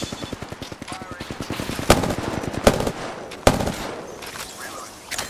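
Video game gunfire: a fast, steady stream of close automatic shots that slows into a few sharp, louder single reports, with a voice talking in places.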